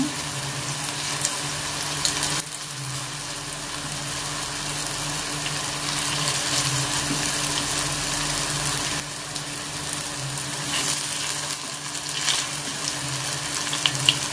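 Anchovies, tofu and papaya leaves stir-frying in a small amount of oil over low heat, giving a steady, close, continuous sizzle with faint scraping and crackles throughout.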